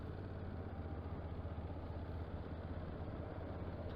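Motorcycle engine ridden by helmetless bike thieves, a steady mid-pitched rumble with clattery texture, fairly close and constant with no one speaking.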